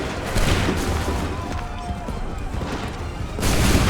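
Musket volley fire in Assassin's Creed III Remastered, a dense crackling burst of many shots at once, loud and close, with a second volley starting at the end.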